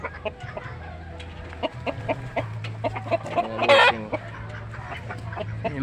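Chickens cluck in short, repeated bursts in a backyard flock, fairly close, with one louder squawking flurry midway through.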